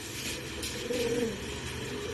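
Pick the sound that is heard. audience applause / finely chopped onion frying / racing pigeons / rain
racing pigeons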